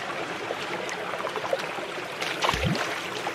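Shallow creek water runs and trickles steadily while someone wades through it in cheap sandals on a fall backpacking trip in Dolly Sods, West Virginia, with a brief splash near the end.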